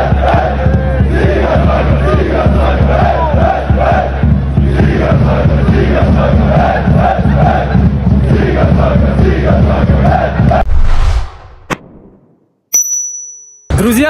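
FC Kairat football fans in the stadium chant loudly and steadily as a roaring crowd for about ten seconds, then the sound cuts off abruptly, leaving brief sharp clicks and near silence.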